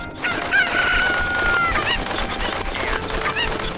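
Cuckoo chickens from Zelda: Ocarina of Time in Kakariko Village cluck and crow loudly over a busy game soundtrack, a sustained rooster-like call followed by repeated squawks.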